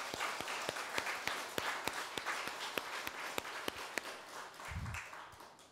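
A congregation at a regular Buddhist dharma service claps in a steady, rhythmic beat, the sharp claps fairly faint and evenly spaced throughout with no talk.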